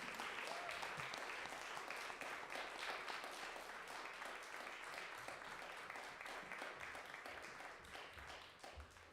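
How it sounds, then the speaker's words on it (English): A church congregation applauds the cast of a winter solstice, Hanukkah and Christmas Sunday pageant. The clapping is dense and continuous, sounds fairly distant in a large room, and fades slightly toward the end. "Can we please give Kimberly and our amazing cast of characters one more round of applause?"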